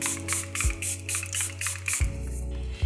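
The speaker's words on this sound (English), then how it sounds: "Lastly, I'll set everything with the Charlotte Tilbury Airbrush Flawless Setting Spray." Charlotte Tilbury Airbrush Flawless setting spray is misted in a rapid series of short, evenly spaced pumps, close up, over a low electrical hum with no talking.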